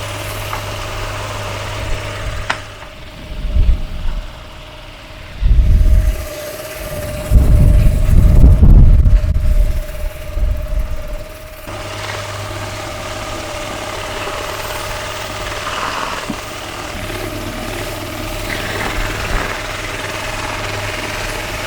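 Roof cleaning machine running with its power dialled down, a steady droning engine hum throughout with a louder surge in the middle.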